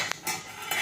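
Food being stirred in a pot, with a couple of quick close scrapes and clinks of a utensil against the pan within a second.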